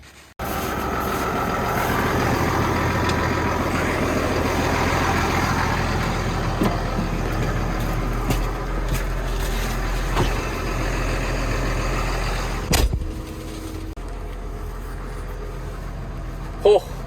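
Truck backing up to a loading dock to unload new Fendt tractors in cold Canadian winter, its engine idling and rumbling steadily for many seconds. A muffled knock or clunk comes near the end, and the engine continues at a lower level afterward.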